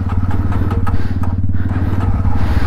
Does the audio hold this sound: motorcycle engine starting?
yes